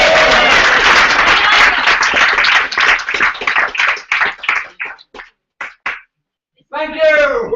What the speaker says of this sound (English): please give a big round of applause to our hosts